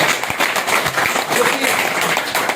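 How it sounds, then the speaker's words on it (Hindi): Audience clapping for a company founder and CEO at an indoor business gathering, a steady dense round of applause throughout, fairly loud, with voices mixed in. "सर के एक बार जोरदार ताली"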